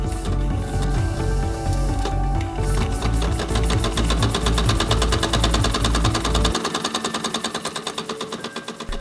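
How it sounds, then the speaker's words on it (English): A small live steam model engine from Engine DIY runs with a fast, even mechanical clatter of ticking and whirring parts, close and loud, its rhythm slowing toward the end. "Engine DIY kindly sent me this live steam engine to review"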